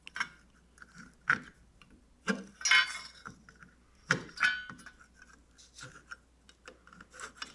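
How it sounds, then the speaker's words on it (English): Punched holes in an aluminum horizontal stabilizer nose rib get deburred by hand, giving a series of short, quiet scraping and rasping strokes with small metallic clicks, irregularly spaced and close, with no talk. "Generally, both sides of the punched hole get deburred."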